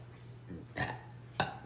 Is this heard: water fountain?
no